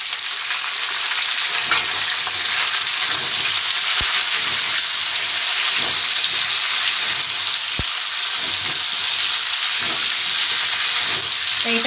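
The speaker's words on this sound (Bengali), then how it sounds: "এটা ভালোভাবে সবজিটাকে ভেজে নেব" Pointed gourd, sweet potato and potato fry in a pan with steady, loud sizzling and hiss, broken by two sharp clicks from a spoon or utensil against the pan; no talking.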